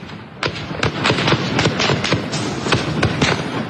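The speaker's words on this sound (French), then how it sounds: "Écoutez, le nombre de tirs dans les rues de Téhéran, ces images." Gunfire in the streets of Tehran, a rapid run of sharp cracks and thuds fired repeatedly at close to middle distance over a constant rumbling background.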